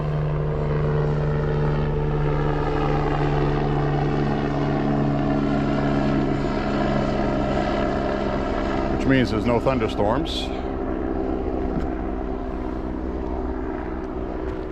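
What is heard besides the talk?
medical life flight helicopter flying overhead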